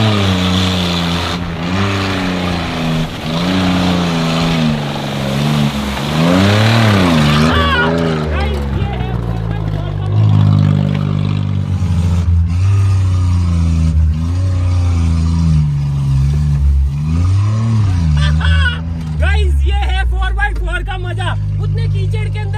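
A 4x4 vehicle churns through deep mud, its engine revving and straining in rising and falling surges, loud and close, with speech over it throughout.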